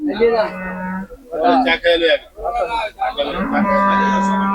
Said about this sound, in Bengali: দর্শক আপনারা দেখেন এই গরুটা